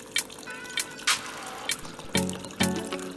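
Jamaican cacao hot chocolate tea is poured through a small strainer, giving several short liquid splashes and trickles at close range, with brief pauses between pours.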